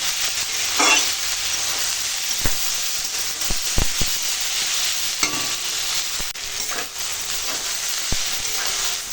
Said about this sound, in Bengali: এবার তরুণিটাকে খালি একটু পেঁয়াজ আর গোটা জিরের সঙ্গে রান্না করে নেবো